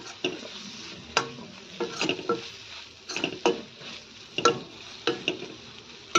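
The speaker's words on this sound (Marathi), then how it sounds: "आता हे सर्व असं तेलात छान मिक्स करून घ्या।" Turmeric, red masala and curry leaves stirred into hot oil in a pan, with a steady sizzle under repeated scraping clinks of a spoon against the metal in an irregular rhythm, close and moderately loud.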